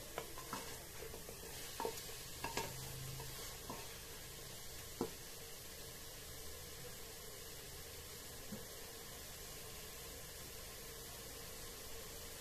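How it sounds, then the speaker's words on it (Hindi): Mutton pieces for a dry masala dish roasting over a high flame, with a steady broadband sizzle and occasional scraping stirs and clinks of a utensil against the pan, moderately quiet and without voices. "इसको पहले हम लोग अच्छे से भून लेंगे फास्ट फ्लेम पे"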